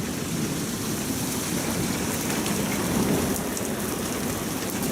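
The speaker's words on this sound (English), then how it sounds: "it's raining too much" Heavy rain pouring down during a tornado storm near Oklahoma City and Moore, Oklahoma, a loud continuous roar of rain on surfaces with no talking.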